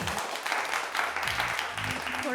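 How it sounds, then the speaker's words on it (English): Audience applause fills a hall at the NDTV World Summit 2025 conference, steady moderate clapping with a few voices mixed in, sustained throughout. "So big round of applause"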